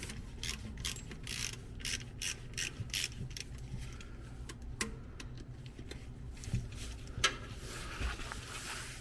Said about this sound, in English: I'm going to go ahead and work my way around and do all 10 of these bolts with a 10 millimeter socket here.